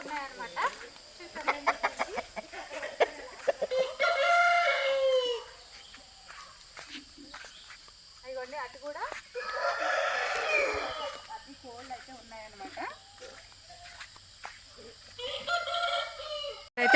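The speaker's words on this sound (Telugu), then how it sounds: "ఇవన్నీ కూడా కోళ్ళే అనమాట మొత్తం అన్నీ కో అని కోస్తూ ఉన్నాయి" Chickens cluck busily while roosters crow loudly in drawn-out calls, close by in a coconut grove, with a person talking briefly over the flock.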